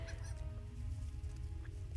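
Chickens in a video game set in the Angle of Mitheithel, with a steady stream of fowl calls and honk-like clucks heard at close range over a constant low rumble of game ambience and music.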